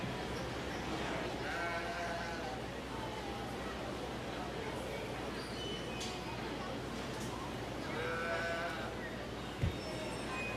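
Lincoln spring ewes at a 4-H county sheep show bleat in a few clear calls, one around the start and another near the end, over a steady hum of crowd chatter and arena noise.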